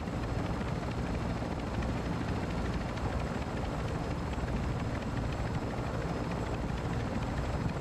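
Helicopter spinning up for exfil in the Call of Duty DMZ game, a loud steady rotor and engine roar that holds constant throughout with no talk.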